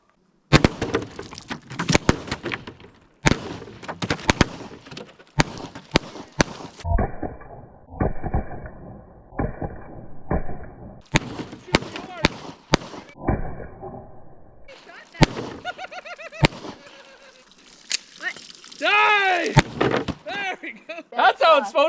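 Sharp cracks of semi-automatic fire with regular ammunition aimed at jugs, loud and close, coming in quick bursts with pauses between them, mixed with voices talking and some higher-pitched whooping and shouting toward the end.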